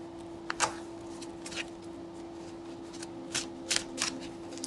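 Tarot cards being shuffled and drawn close up, soft papery riffles and flicks in irregular bursts over a quiet background hum.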